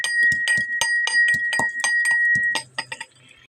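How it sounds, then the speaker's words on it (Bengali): Garlic being mashed into shukto, a Bengali vegetable dish, produces a quick series of ringing metallic clinks and soft thuds, steady for a few seconds before trailing off into a few lighter taps. "সেই রসুন আমি এতে ভালো মতন ম্যাশ করে দিয়ে দেবো।"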